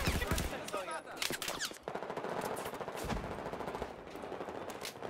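Rapid gunfire in the video game Battlefield 4 during a 5vs5 Obliteration match on Dawnbreaker, dense overlapping automatic bursts and sharp shots filling the clip at a steady, loud level.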